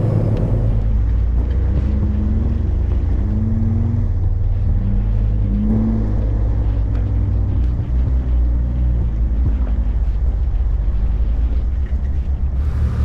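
A vehicle on bald tires labours up a snowy road toward 6,000 feet, its engine a steady, loud low drone with rising and falling revs that fill the whole stretch, no voices over it.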